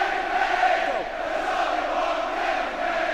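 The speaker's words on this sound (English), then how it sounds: "And the crowd are riling him now as well." A rugby league crowd at a St Helens match roars and jeers in a sustained, distant wall of voices, rising and falling slightly.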